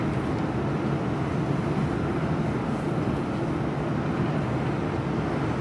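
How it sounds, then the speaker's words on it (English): Apache helicopters, at least three, pass by as a continuous low, rumbling roar that holds steady throughout, heard from inside a moving HGV truck in the UK. "Helicopters to my left."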